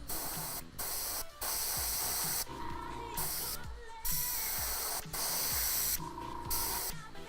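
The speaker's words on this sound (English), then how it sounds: "About oversprayed on something that I didn't want to overspray on." Airbrush or spray can hissing in steady bursts while painting a Tyranid miniature, with short pauses and clicking between sprays and a faint mechanical whine, close and loud.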